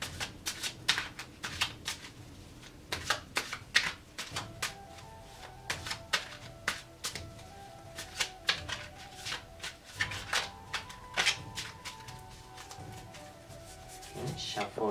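Tarot cards are shuffled up close in quick, repeated riffling bursts, with a soft voice speaking now and then.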